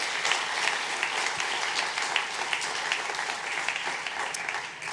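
Audience applause at a university public policy building dedication ceremony, a dense, sustained wash of many hands clapping at moderate distance, fairly even in level for the whole stretch.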